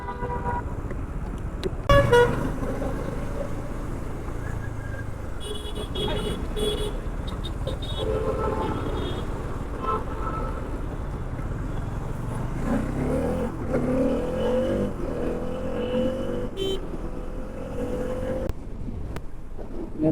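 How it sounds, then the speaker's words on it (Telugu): Heavy road traffic jams up on the Hyderabad to Vijayawada route, heard from a Bajaj Dominar 400 motorcycle: a constant engine rumble with car horns tooting now and then, and some faint talk. "బాయ్ ఈడనే ట్రాఫిక్ జామ్ ఉంది"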